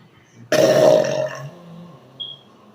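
An extreme, loud burp after drinking soda, one long throaty belch lasting about a second, followed by a brief faint squeak against a quiet room.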